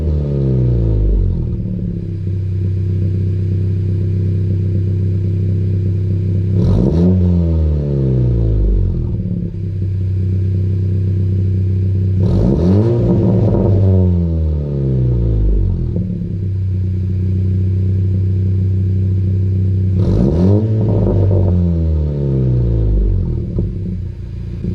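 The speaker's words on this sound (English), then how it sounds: "So let me give it a couple revs right now," A 2020 Honda Civic Si with a PRL downpipe and tune idles with a loud, steady drone, then its engine is revved three times in separate blips, each rising and falling sharply before settling back to idle.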